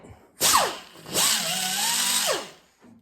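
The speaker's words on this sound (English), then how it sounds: "My new toy, this AirCat angle die grinder" An AirCat pneumatic angle die grinder grinding old primer off the metal edges of a 1970 Chevy rocker panel, heard as two close, loud bursts of high whine that spin up and then wind down, with a short gap between them.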